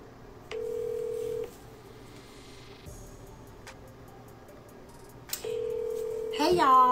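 Phone dialing tones followed by a steady ringback tone that pauses, then sounds again, with brief clicks and a burst of voice at the end.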